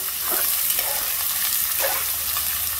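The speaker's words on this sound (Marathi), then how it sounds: "आणि आता ह्यामध्ये कांदा घालते। कांदा मस्त मऊ आणि गोल्डन ब्राऊन होईपर्यंत तेलामध्ये परतून घ्यायचा आहे।" Onions frying in oil until soft and golden brown for Aagri-style daal mundi, giving a steady, close, dense sizzle with a few soft stirring scrapes.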